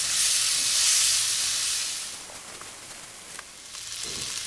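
Beef with marinating sauce, sate and tomato sizzling in a hot pan while being stirred, a loud steady hiss that eases slightly midway with faint scraping of the spatula.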